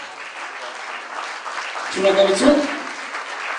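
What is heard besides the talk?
audience applause at award ceremony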